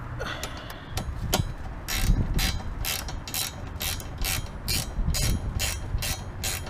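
A ratchet tightens bolts during a racing seat install in a Nissan 370Z, giving quick bursts of crisp metallic clicks that repeat in a steady rhythm, close and moderately quiet, with no talking.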